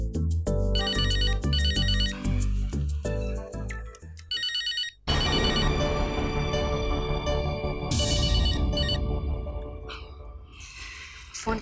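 A phone ringtone plays loudly and continuously as a repeating melodic ring, changing pattern partway through, with no speech over it.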